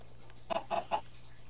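A chicken gives three quick clucks in a short burst, close and moderately loud against a quiet background with no talking.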